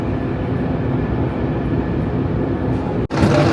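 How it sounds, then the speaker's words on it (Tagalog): A tram running in Monaco fills the space with a steady rumbling rolling drone from inside the car, continuous and fairly loud, with a brief dropout followed by a slightly brighter surge near the end; no talking. "So yan yung tram nila."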